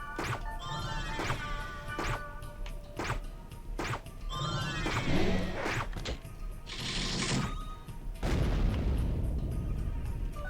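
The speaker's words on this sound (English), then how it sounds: "That's a fine kill shot there, that big explosion." Video game combat in .hack//Fragment, ending in a kill shot: repeated sharp hits and metallic impacts with sweeping synthetic effects, then a loud booming explosion burst near the end, all fairly close and with no speech.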